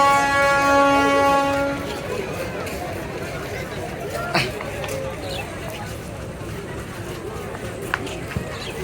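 Balaka commuter train stopped at Gafargaon station. A horn sounds for about two seconds, then a steady rumble continues under crowd noise and voices on a busy platform.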